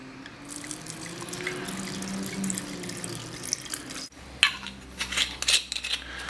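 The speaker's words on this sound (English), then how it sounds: "Now we're going to add in the Riesling." Riesling wine is poured over cucumber slices in a pitcher, a close, continuous liquid splash and trickle that stops, followed by faint drips and glassy clinks.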